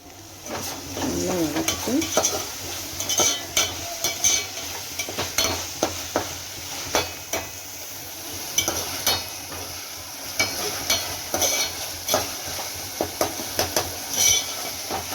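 Ginger-garlic paste sautéing in a pan for a vegetable kurma, with onion and tomato, a steady sizzle under repeated sharp scrapes and clinks of a spoon stirring against the pan, close and fairly loud.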